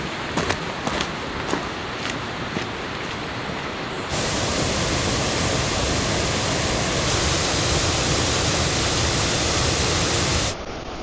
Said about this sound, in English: Sgwd y Pannwr, Upper Gushing Falls. Again, wide curtain of water, really beautiful.